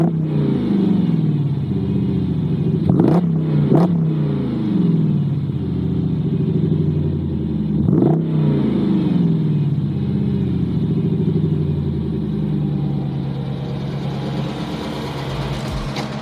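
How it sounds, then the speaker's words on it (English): Jeep SRT8 V8 with an axle-back exhaust revved hard in repeated sharp blips, loud and close, with a steady rumbling idle between the bursts. "I'll rev it here and then tell me what you think."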